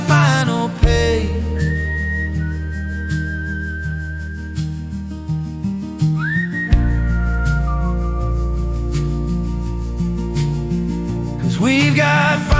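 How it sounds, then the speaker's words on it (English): A person whistles a sustained melody over a steady musical backing, clear and close throughout. "hey, whistle with me"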